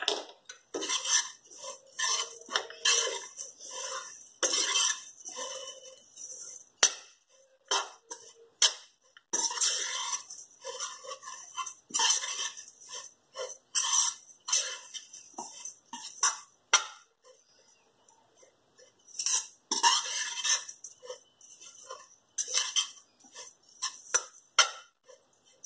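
Dried dates dry-roasted in a pan for dry fruit barfi, with rapid metallic clinks and scraping of a spoon against the pan in bursts and pauses, close and crisp, no talking.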